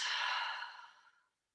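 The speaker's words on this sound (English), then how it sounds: "Breathing in, breathing out." A single slow breath out during a yoga core exercise, a soft airy sigh close up that fades away over about a second into silence.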